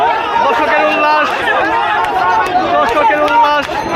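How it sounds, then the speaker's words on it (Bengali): A crowd of spectators roars and chatters continuously at a traditional Bengali village boat race (nouka baich), a dense, steady hubbub of cheering voices close by with no single voice standing out. "দর্শকের উল্লাস।"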